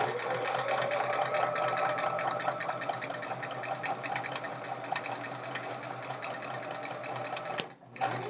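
A sewing machine stitches chevron quilt fabric in a steady, rapid mechanical whir with fine needle ticking, close and moderately quiet, running continuously before a brief stop near the end; no talk.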